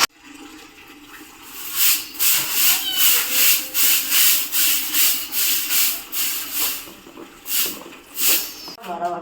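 A vessel is scrubbed and washed by hand, with a steady series of rhythmic, loud abrasive rubbing strokes, roughly two per second, against a background of running water that ends abruptly.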